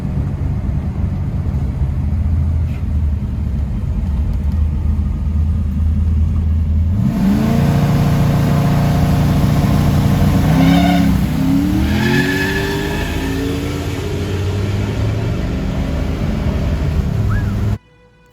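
A drag racing truck launches without a burnout and accelerates hard down the track, its engine note climbing loudly through low gear and a gear change after a stretch of steady background rumble, with tire noise mixed in.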